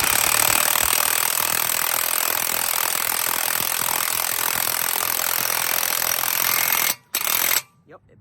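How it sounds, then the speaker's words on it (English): Repeated hammer blows on a 32 mm socket drive a front wheel bearing into an Acura TSX hub without a shop press, a dense run of loud metallic impacts that stops abruptly near the end. "I'm gonna go ahead and hit it with our 32 millimeter to drive it in."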